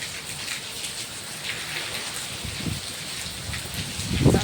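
Heavy monsoon rain pours in a dense, steady hiss on surfaces, with a few louder splashes and thumps close by near the end and no speech.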